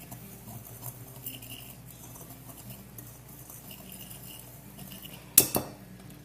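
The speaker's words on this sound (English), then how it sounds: "I'm going to take about 2/3 cup of breadcrumbs, as well as some Parmesan cheese, about half of a cup. I'm going to mix that together real quick." Breadcrumbs and Parmesan cheese are mixed together in a bowl with a utensil, heard as soft scraping and faint stirring, closing with a sharp clink of metal against the bowl and a second lighter tap.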